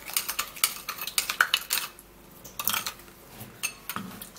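Spoon clinking and scraping against a bowl while a foot treatment mixture is stirred, a quick irregular run of close, bright taps with a short pause in the middle.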